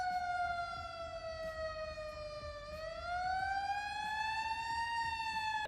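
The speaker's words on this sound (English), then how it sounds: "Pretty sure it has the old siren too." An old-style wailing police car siren from the BeamNG Drive video game rises and falls slowly in a clear, continuous tone, loud and alone.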